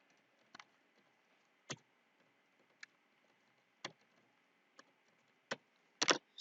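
Several isolated keystrokes tapped on a computer keyboard while entering an email address, sparse and irregular clicks spaced out over a few seconds with a quick double tap near the end, close and fairly quiet.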